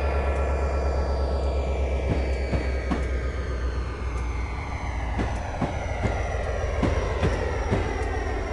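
A train in Train Simulator 2013 on Marias Pass rolls past with a steady heavy rumble, rhythmic clicks of wheels over rail joints and a faint squeal, all mechanical and without voices.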